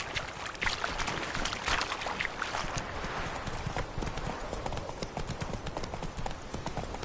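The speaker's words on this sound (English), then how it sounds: "Run, Roach" A horse gallops in The Witcher 3, with steady, rapid hoofbeats continuing throughout at a moderate level and no voices over them.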